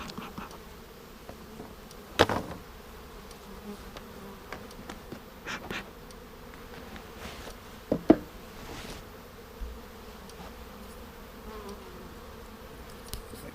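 Soft, continuous hum of honey bees from a package colony, with individual bees droning past the mic and a few brief clicks and knocks of hive handling, quiet and close with no speech.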